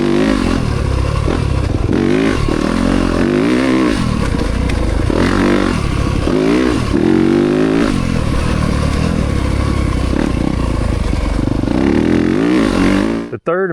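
Yamaha YZ300FX dirt bike fitted with a 304cc Athena big bore kit, accelerating hard in third gear, its loud, raspy engine note rising and surging continuously close by, with some clatter and scraping.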